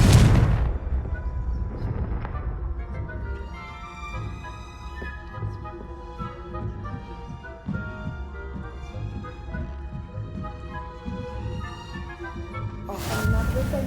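Confringo explosive spell cast in Hogwarts Legacy: a loud blast at the start, followed by a long ringing, rumbling tail with musical tones, and a second burst near the end.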